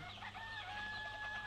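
Chickens cluck in a henhouse holding about 500 chicks, a steady, close flock chatter with a few sustained tonal calls running through the brief stretch.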